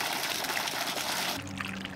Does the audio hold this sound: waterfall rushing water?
yes